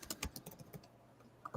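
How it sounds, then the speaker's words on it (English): Computer keyboard typing in a quick burst of several close key clicks, a short pause, then one or two more taps, with no voices. "I can hear you typing"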